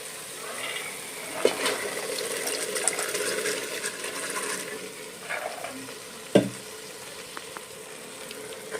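Hyacinth beans (avarekalu) frying in a pan while being stirred, giving a steady close sizzle with scraping stirs and a sharp clank partway through.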